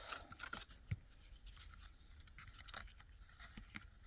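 Scissors cut through a paper craft box with a few quiet snips and rustles, heard close against low background noise, with no speech.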